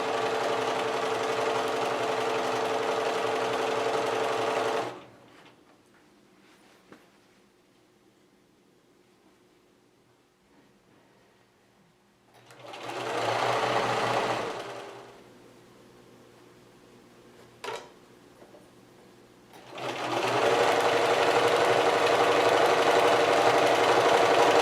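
A sewing machine stitches a 1/4 inch quilt seam in three bursts, a loud rapid whirring hum that starts, stops for several seconds of near quiet, then runs again, close up with no talking.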